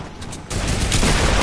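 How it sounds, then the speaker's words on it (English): Rapid turret gunfire in an online video game, a dense burst of automatic shots that swells louder after a brief lighter stretch, close and continuous. "He killed me with my own turret."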